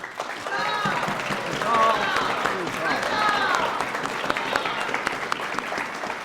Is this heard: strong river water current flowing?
no